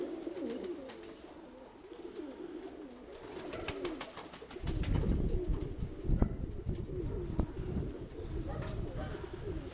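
Pigeons coo close by, repeated soft low rolling calls that thicken in the second half, with scattered light clicks and rustles around them.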